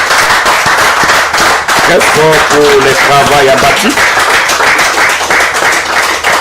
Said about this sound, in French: je vous prie et je vous demande de l'applaudir très fort